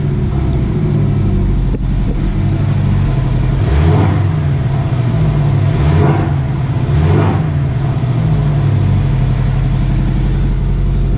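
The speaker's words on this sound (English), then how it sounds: "Give her a couple revs here." A 2021 Porsche Cayman T with a 2.0-litre turbo engine idles loudly and is given several short, moderate revs, each blip rising and falling back to a steady rumbling idle, heard close.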